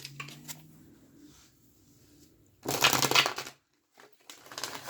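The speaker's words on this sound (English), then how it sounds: "I'm just going to start by shuffling it down here so it's not quite as loud" An astrology card deck is shuffled low down, a soft riffle early on followed by a louder, brisk burst of flapping and clicking, then brief quiet and another rustle.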